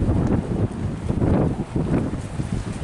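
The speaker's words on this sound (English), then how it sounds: "It is super windy today. About 30-mile-an-hour gusts." Strong, gusty wind of about 30 mph buffeting the outside of an RV, a loud continuous rumbling roar with surging swells and wind noise hitting the microphone.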